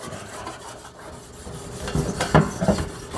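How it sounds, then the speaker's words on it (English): Steel wool scuffs the back of a freshly cut patch of sheet metal during rust repair on a 1989 Chevy K1500 truck, a close, soft, raspy rubbing that builds into a few sharper strokes toward the end. "I'm gonna scuff up the back with just some steel wool"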